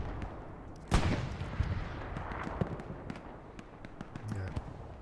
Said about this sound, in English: It was not a good timing, I guess, for this bombing run.